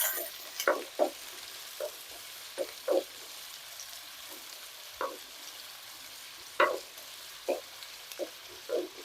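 Onions frying in hot oil for omelette curry, a quiet sizzle punctuated by sharp crackles and spatters scattered irregularly every second or so.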